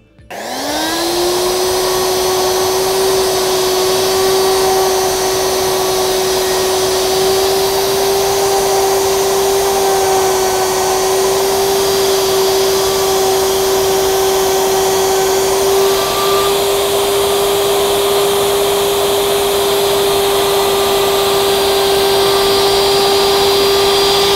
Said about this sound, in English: Whenever routing, it's important to keep one elbow secured to the floor so you have control and the router doesn't jump.